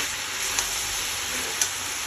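A steady, even sizzle comes from mixed vegetables frying in a pan for Bengali panch mishali shukto, broken by two faint ticks of utensil contact.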